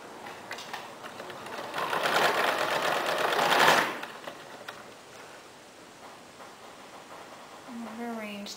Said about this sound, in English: This is me machine sewing these triangles on